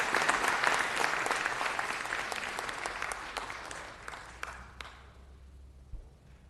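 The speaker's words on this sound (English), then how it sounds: "we proudly salute Lieutenant Colonel Steve Embrick and applaud his distinguished service to this country" Applause fills a city council chamber in honour of Lieutenant Colonel Steve Embrick, a dense burst of clapping from the audience that gradually thins and fades out over several seconds.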